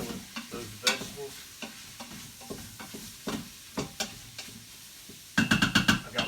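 Spiced meat and vegetables stirred in an Instant Pot, a spoon scraping and knocking in uneven strokes with a soft sizzle underneath, closing on a brief flurry of quicker, louder clatter.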